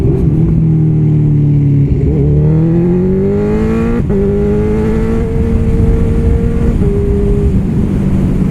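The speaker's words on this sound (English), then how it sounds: "Nimble little Honda, noisy little beggar," A Honda CB1000R motorcycle with an Akrapovic full exhaust system revving loud and close, its engine note rising and falling through several long sweeps with a brief blip, continuous and without talk.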